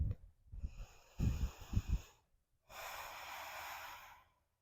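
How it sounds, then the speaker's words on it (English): During a beginner yoga class, a person breathes deeply and audibly, with a few short rough nasal puffs followed by a long, steady airy exhale, close and fairly quiet. "One more round of breath here."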